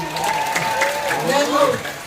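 Crowd clapping fills the space steadily at a traditional Balinese drama gong performance while a voice carries on over it, the applause dense and continuous throughout.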